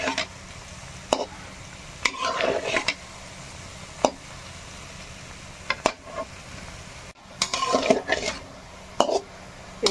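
Sweet potato balls frying in oil in a pan, stirred now and then so a steady close sizzle runs under irregular scraping and clinking of a utensil against the pan, with bursts of louder stirring.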